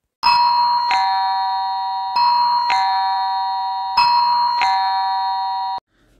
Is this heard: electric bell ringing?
yes